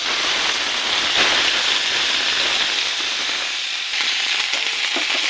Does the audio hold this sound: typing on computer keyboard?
no